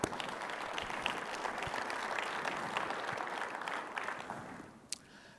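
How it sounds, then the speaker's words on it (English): Sustained audience applause after an address at an Iowa Renewable Fuels Association event, steady dense clapping from a crowd that fades out near the end. "let's give them a round of applause"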